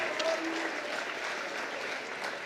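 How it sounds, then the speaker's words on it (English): Applause rises from the audience at a 2022 fall athletic awards ceremony honouring All-State athletes, a steady wash of clapping, moderately distant, lasting a couple of seconds. "Let's have a nice round of applause for the 2022 fall season All-State athletes"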